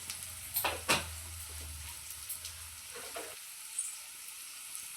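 Onions frying with salt in a pan give a faint close sizzle, broken by a few scraping stirs and knocks early on, after which the sizzle softens near the end.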